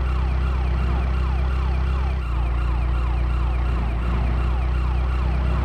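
An ambulance siren wails with a continuous, rising and falling sweep over a loud engine drone in the GTA Chinatown Wars video game, with no voices heard.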